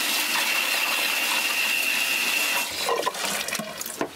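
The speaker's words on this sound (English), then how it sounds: "run water all over it, like this too" Water from a hose runs over a mop in a bathroom, a steady broadband rush with a faint whine, then a few splashes and clunks near the end.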